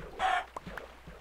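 A Minecraft chicken gives a short clucking squawk, followed by a few soft in-game thuds and taps, fairly faint and with no talk.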